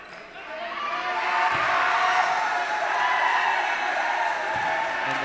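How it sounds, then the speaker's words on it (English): A high-school basketball crowd in a gym cheers and roars as a player checks into a game against Haddon Township. The noise swells into a loud, sustained roar, with a few faint ball bounces underneath. "And the crowd erupts as Mr. K's son, Casey Kozaneski, gets into the game, checks in."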